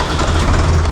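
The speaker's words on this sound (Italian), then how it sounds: "Questo è il nostro trattore con la pala attaccata davanti." Tractor fitted with a front loader bucket, running with a loud, close, low diesel rumble that stays steady through a short moment.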